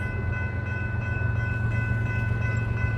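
A northbound freight train rolls steadily past nearby, a continuous loud low rumble with sustained tonal hum, no pauses.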